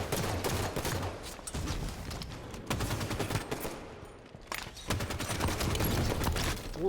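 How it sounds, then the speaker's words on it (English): Grenade blasts and gunfire in the video game Halo, with dense overlapping automatic bursts and explosions that come in waves and ease off briefly before picking up again. "Oh my, grenades everywhere."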